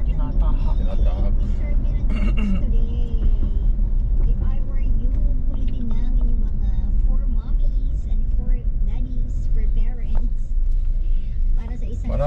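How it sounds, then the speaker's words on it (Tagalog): Steady rumble of cars and other vehicles moving along a familiar road in the Philippines on a drive from Rizal Province, loud and continuous throughout, with a person talking over the traffic. "Marami ding mga sasakyan tulad yan"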